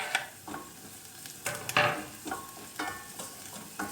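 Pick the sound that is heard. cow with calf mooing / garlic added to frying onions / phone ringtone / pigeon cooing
garlic added to frying onions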